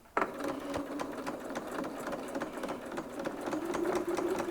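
Sewing machine stitching a quilt border in a Gemini jewel pattern, starting abruptly then running in a steady fast rhythmic whir of needle strokes, close and alone without talk.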